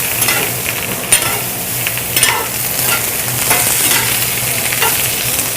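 Vegetables sizzle loudly in a pan heated over an open flame, with a constant bright frying hiss and occasional stirring scrapes, close by and with no talk.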